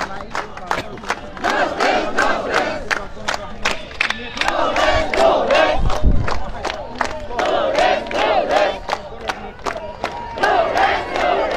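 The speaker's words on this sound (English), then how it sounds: "All the teachers are jointly raising the slogan to fight for justice unless justice is ensured" Protesting teachers at City Centre, Agartala chant slogans together as a loud crowd, voices rising in rhythmic unison against sharp, regular claps that keep time throughout.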